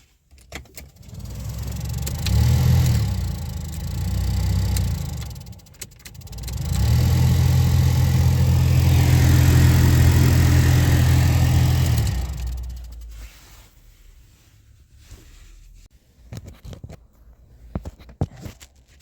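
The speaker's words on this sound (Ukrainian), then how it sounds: "на машині Hyundai Getz виникають сторонні шуми при роботі вентилятора обігріву та кондиціонера" A Hyundai Getz's heater fan whirs and rattles in bursts, a steady mechanical drone rising and falling, then cutting off, leaving quieter clicks and handling noises.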